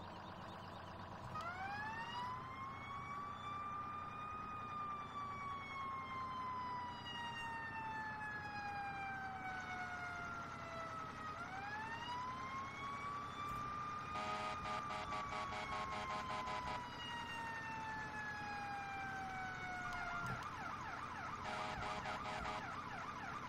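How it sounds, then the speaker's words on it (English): Fire engine siren wailing in long rising and falling sweeps, with blasts of air horns at intersections, loud and continuous throughout in the Farming Simulator video game during a brush fire response to a burning RV. "I am trying to use our air horns at these intersections to make sure everyone knows"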